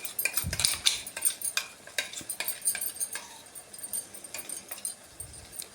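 Ground masala paste stirred into hot frying oil in a pan for a fenugreek leaf palya, with irregular close scrapes and clinks of a spoon against metal over a soft sizzle, no talking.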